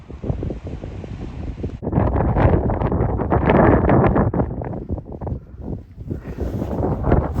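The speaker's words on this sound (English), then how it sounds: "the wind is really starting to pick up now" Strong gusting wind on the open moors of Bleaklow buffets the microphone in loud, roaring surges that rise and fall, with a sudden heavier blast midway and no voices.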